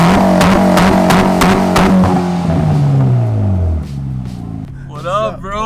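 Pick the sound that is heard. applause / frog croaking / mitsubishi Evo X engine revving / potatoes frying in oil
mitsubishi Evo X engine revving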